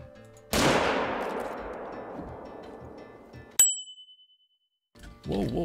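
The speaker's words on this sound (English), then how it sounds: "I think I will shoot you." A single sharp rifle shot from a hunting video game cracks out loudly and decays slowly over a few seconds, followed by a brief bright metallic ding and ring, then quiet and a short burst of game sound.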